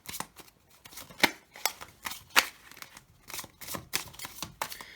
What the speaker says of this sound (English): then you just shuffle the cards